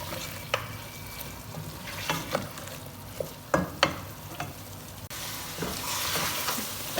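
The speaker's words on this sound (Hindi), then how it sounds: "अच्छी तरह से हाई फ्लेम पर इसकी हमने कर लेनी है भुनाई।" Mutton with green chillies and half a teaspoon of garam masala frying on high flame, a moderate sizzle with scattered sharp scrapes and clinks of a spoon against the pot, the hiss swelling toward the end.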